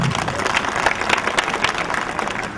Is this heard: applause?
yes